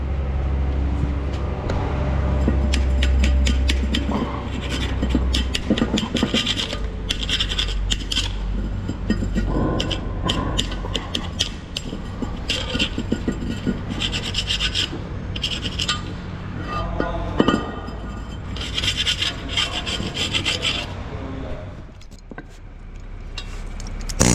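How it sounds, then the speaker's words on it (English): A metal scraper rubs and scrapes at the pipe ends of a Putzmeister 38-5 concrete pump turret, with repeated gritty scraping strokes at close range and steady background hum. "We'll take our scraper here. We'll clean these ends off"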